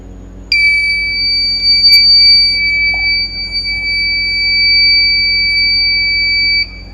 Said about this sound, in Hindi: ये प्रोजेक्ट आपका एक्टिवेट हो जाएगा और इसमें बजर की आवाज आने लगेगी